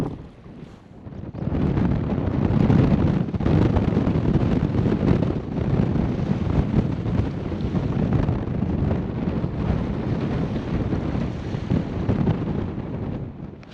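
Strong wind on a beach during surf fishing, roaring and buffeting the microphone in a dense, continuous rumble with surf mixed in, loud and close throughout, with no talking.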